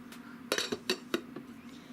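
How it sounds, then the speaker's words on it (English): A lid goes onto a slow cooker holding a Reuben spread, making a few sharp clinks and clatters close by, with a couple of lighter taps afterward in a quiet room. "now put your cover on"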